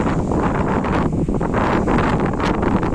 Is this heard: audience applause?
no